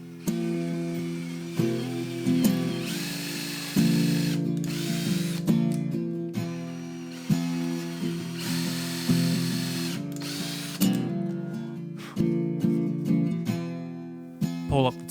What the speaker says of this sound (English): From there, drill through.